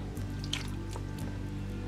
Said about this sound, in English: Now we'll just pour all of this in,